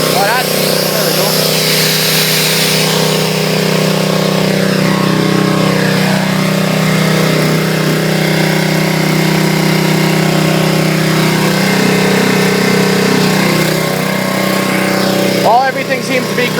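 An 8HP Briggs and Stratton Powermate 3250 generator runs under load from a 1500 watt heater, its small engine droning loudly and continuously throughout with a steady, slightly rough tone.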